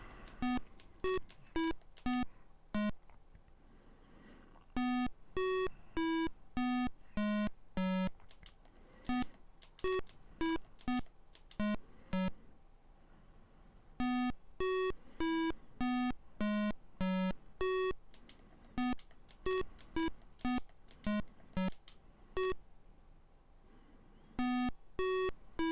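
Electronic memory-game tones from the Atari 2600 game Brain Games play in quick bursts of pure beeps at varying pitches, separated by short pauses, clear and alone.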